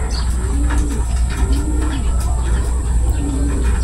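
Racing pigeons arriving from a training toss coo repeatedly in low, rolling calls, close and clear over a steady loud background hum and rumble.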